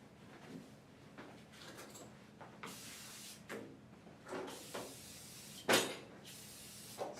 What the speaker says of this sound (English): Spray these tools down.